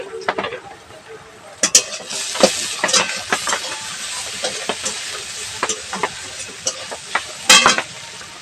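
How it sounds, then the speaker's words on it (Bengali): Potatoes for spicy semolina are stirred as they fry in a pan, with a steady sizzle under irregular scrapes and clinks of the spoon against the pan, close by. "ঢাকনাটা তুলে আমরা আরেকটু নাড়িয়ে দেবো।"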